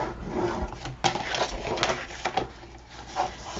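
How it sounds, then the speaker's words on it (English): Paper being folded and burnished for a handmade wedding album gives close, dry rubbing and scraping strokes with a couple of sharper creases, no speech. "So again, I am folding and burnishing,"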